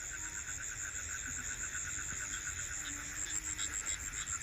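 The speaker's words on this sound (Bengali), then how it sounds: "চারিদিকে ব্যাঙের ডাকে ছাড়া আর কোনো আওয়াজ পাবেন না।" Frogs call at night around an empty cremation ground, forming a steady, pulsing chorus of trills that fills the background without a break. No voices are heard.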